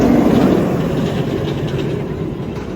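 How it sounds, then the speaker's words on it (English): A small amusement park train at Six Flags Over Georgia rumbles past, a steady rolling clatter that is loudest at the start and eases slightly as it moves on. "Alright, and we have the train."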